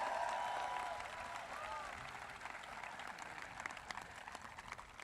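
Outdoor crowd at a high school graduation ceremony applauding in agreement, a wash of many hands clapping at moderate distance, fairly steady and slowly tapering, with some voices mixed in.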